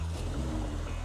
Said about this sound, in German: Dann dürfen Sie einmal bitte den Motor starten.